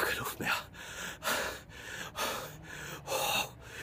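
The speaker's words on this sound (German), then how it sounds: "Warum muss ich jetzt so schnaufen hier?" Heavy, rapid gasping breaths from a man after ice bathing in winter water, close and loud, in a steady rhythm of about eight sharp inhales and exhales.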